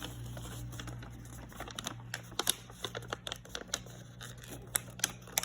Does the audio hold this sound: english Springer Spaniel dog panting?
no